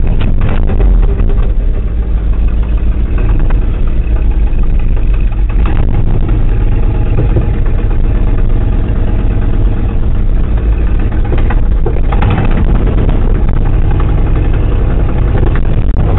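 A cold-blooded 1979 Ford F250 truck with a manual transmission and a plow runs steadily, a loud, continuous low engine rumble close by that holds throughout with no talk.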